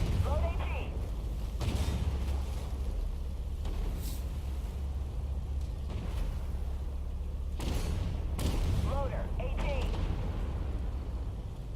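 Tank cannon fire from the Object 279 in the video game Armored Warfare, firing high-explosive shells: a few sharp booming blasts spaced seconds apart over a constant low engine rumble.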